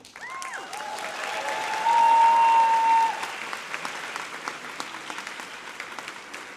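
Graduation audience of family and friends applauding steadily, a broad even wash of clapping that swells briefly near the middle, then thins toward the end.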